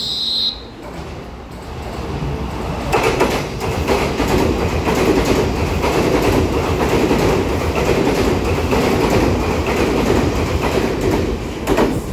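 A TEMU2000-series Puyuma tilting express train (TEMU2026+TEMU2025) pulls out of Hualien on a run toward Changhua, its steady rumble and rail clatter building after a quieter start and holding loud and close throughout.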